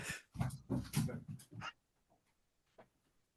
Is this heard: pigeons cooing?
no